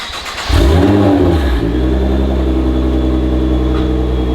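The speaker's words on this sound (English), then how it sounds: "I'll show you guys a nice little startup before we get out of here" A car engine cranks and fires up loudly, revving sharply before settling into a deep, steady rumbling idle close by.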